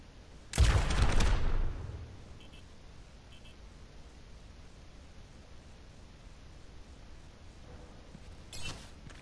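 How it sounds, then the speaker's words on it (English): Helix rockets fired at practice targets in the Overwatch video game: one loud burst of launch and impact, then quiet background hum and a faint second blast near the end. "Fire your helix rockets at the targets."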